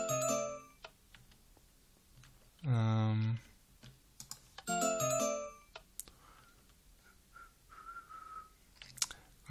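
Minecraft note blocks play a short entrance tune set fast at one tick, with a chime part an octave above the melody. The bright tones come in bursts and are fairly quiet against a soft background.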